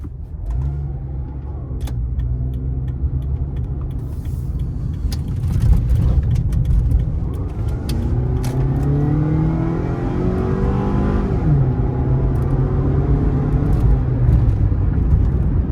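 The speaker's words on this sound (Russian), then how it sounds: "Я разгоняюсь педалки в пол." A third-generation Toyota RAV4 accelerates hard with the pedal floored, engine note climbing steadily through the gears with a shift partway, heard from inside the cabin over road noise, no voices.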